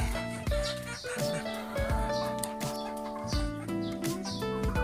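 Farm chickens clucking and calling while being fed, close and fairly loud, with background music layered over them throughout.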